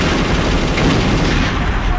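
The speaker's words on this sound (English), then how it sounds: "Grenade launcher." Grenade launcher secondary fire in the shooter game Area 51: a dense, loud, continuous roar of explosive blasts that fills the whole moment without a break.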